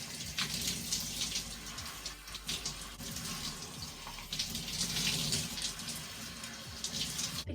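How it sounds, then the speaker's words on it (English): Water runs steadily from a tap while bleached hair is washed, a continuous soft splashing hiss that is fairly quiet and close, with no voices. "Let's wash my hair."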